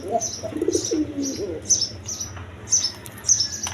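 A male pigeon coos in a loft, giving soft repeated throaty calls up close while higher chirps and light bird chatter come from other pigeons around it.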